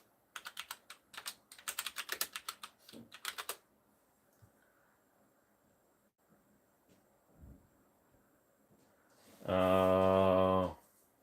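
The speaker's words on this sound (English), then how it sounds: "Sorry, I'm typing on my thing that the camera's mounted to." Quick, close clattering keystrokes on a keyboard that has a camera mounted to it, coming in several dense bursts over a few seconds, followed by quiet and then a short, loud electronic tone.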